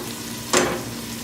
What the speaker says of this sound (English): I'm adding the vegetables in.